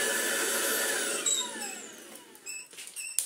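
A full, clogged Tineco cordless stick vacuum cleaner runs with a loud, high motor whine that winds down, its pitch sliding lower, before a few short mechanical clicks and rattles.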